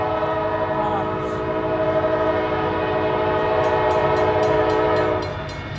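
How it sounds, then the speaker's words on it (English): A Norfolk Southern freight train pulled by four locomotives passes in downtown Lee's Summit, its horn sounding loud and sustained with the rumble of the rail cars underneath, close by, before fading slightly at the end. "Well, I think that's a freight train."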